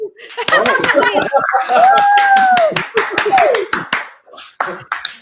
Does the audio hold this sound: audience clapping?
yes